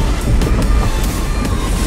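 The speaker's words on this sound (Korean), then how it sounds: "물 가르는 소리 들리나요?" A SsangYong Korando Sports pickup truck wades through deep river water at a riverside campsite, producing a steady, close rush of churning, splashing water mixed with low rumble, with no voices.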